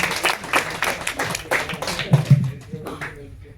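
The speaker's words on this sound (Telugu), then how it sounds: "మీరందరూ మరొకసారి చప్పట్లు కొట్టాల్సిందిగా కోరుతున్నాను" Audience clapping at a movie release event, a scattered burst of claps with some talk in the crowd, fairly close and loud, lasting a few seconds.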